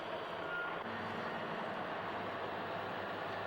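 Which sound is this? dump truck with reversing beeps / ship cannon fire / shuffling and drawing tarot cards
dump truck with reversing beeps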